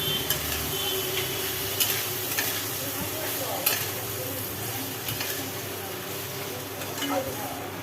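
Green chillies sizzle steadily in a hot pan while a utensil scrapes and stirs at intervals, close up, with occasional soft speech.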